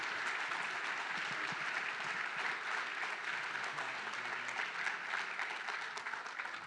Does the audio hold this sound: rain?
no